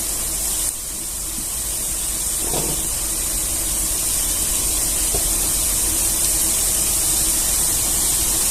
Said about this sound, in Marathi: आता एवढे आपण बिस्किट तळून काढून घेऊया मग बाकीचे तळून घेऊया